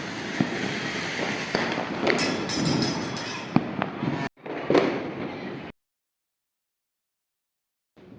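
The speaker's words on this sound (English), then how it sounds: "They blast firecrackers and too much noise also." Firecrackers set off during Diwali crackle and pop in rapid bursts from a distance, with sharp louder bangs among them, then the noise cuts to silence before a faint return.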